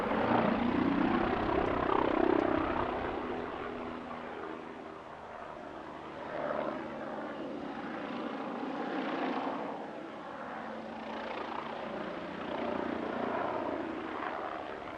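At an airshow, a Bo105 helicopter flies past with a steady, broad rotor and engine roar that swells and eases gently, at moderate distance, with no talk.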